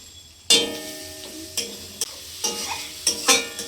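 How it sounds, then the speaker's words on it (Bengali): A ladle scrapes and knocks in a pan while spiced potatoes for vegetarian aloo kosha fry, giving sharp, irregular stirring clatters over a faint sizzle at close range, without speech. "আমার বর নিরামিষ আলু কষা বানাচ্ছে"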